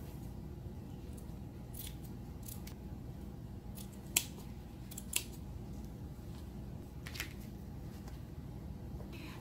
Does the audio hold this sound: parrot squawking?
no